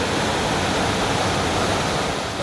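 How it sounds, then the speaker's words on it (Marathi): A waterfall roars at night in a dense, unbroken rush of water, loud and close, steady from start to finish with no voices. "धबधब्याचा आवाज पण बघा"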